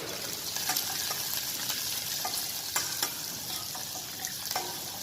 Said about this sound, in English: Then I'm going to add a roughly cut of onion and mix well.